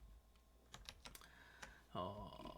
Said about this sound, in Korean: 일단 여기까지 한번 코드 타이핑을 한번 해보도록 하겠습니다.